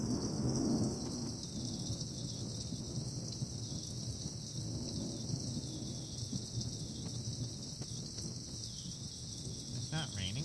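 Light rain falling during a summer thunderstorm, a faint continuous hiss with low rumbling underneath, heard from a distance with a soft background drone and no clear voices.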